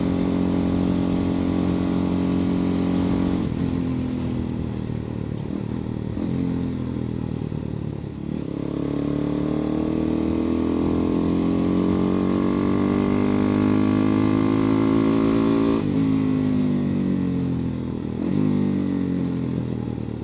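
A Megelli 250R motorcycle fitted with a cone air filter runs loud and close, its engine note rising and falling through several revs and gear changes over a continuous rough drone.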